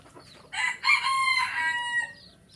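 A labuyo junglefowl rooster gives a single clear crow, close and fairly loud, with a short rising start and a long sustained, tapering call lasting about two seconds.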